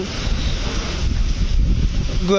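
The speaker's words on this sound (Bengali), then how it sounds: "আর এখানে কিন্তু তীব্র বাতাস" Strong wind from Cyclone Remal roars steadily into the microphone at Sadarghat river port on the Buriganga in Dhaka, buffeting it with low rumble, while river water churns and slaps in the background throughout.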